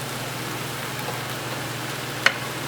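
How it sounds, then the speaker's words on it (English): Soft, steady sizzle of onions frying in a pan, a low continuous hiss with one brief sharp clink partway through. "Okay, the onions started frying,"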